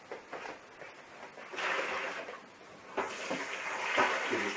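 Water runs from a sink tap while an espresso machine drip tray is rinsed beneath it, a close, splashy rush that shifts in loudness as the tray moves through the stream.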